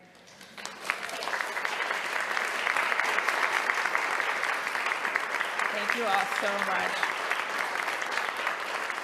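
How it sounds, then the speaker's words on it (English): An audience at a formal government speech event gives sustained applause, with dense, even clapping that builds quickly and carries on for several seconds while a speaker talks over it. "get a round of applause today"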